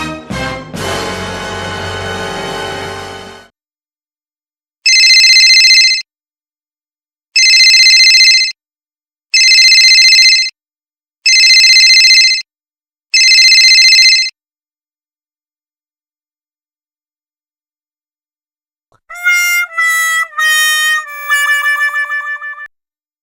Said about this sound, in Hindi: मुझे लगता है आपका फोन फिर से बजने वाला है।